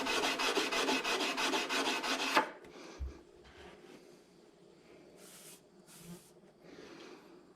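A Lightningstone hand-sanded with 80 grit sandpaper, giving a loud, fast rhythmic rasping scrub for a couple of seconds, then quieter faint rubs and scrapes, with no voices.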